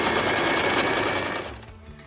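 A sewing machine stitches a waistband onto a pair of trousers, a fast, steady mechanical whirr running loud and close before slowing and fading over the last half second.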